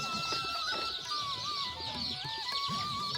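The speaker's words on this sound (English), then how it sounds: "The chicks are so small, they're just day old." Day-old chicks in a farm brooder peep continuously in a dense, high chorus of overlapping chirps, loud and close throughout with no talking.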